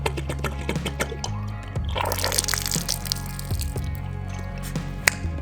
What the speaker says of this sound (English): Open this little guy up and let whatever water's left in there out.